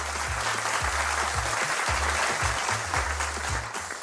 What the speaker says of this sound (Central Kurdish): چەپڵەیەکی بێت بۆ ئەوانیش